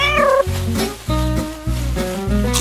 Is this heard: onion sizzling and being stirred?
no